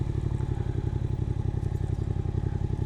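Suzuki GSX 8S motorcycle riding on a winding mountain road near Cilaos, a close, throbbing engine drone with a rapid, even pulse and wind rush, holding steady throughout without speech.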